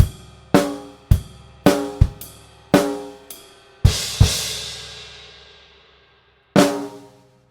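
A drum kit plays the coda of a Grade 3 Trinity piece: a run of sharp snare and kick hits with a snare flam, then a loud crash cymbal washing out and decaying, and one final accented hit, all alone without talk.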